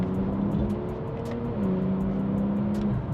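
A car accelerates hard while driving, its engine drone steady and loud with a slowly shifting pitch and occasional light clicks over it. There is no talking.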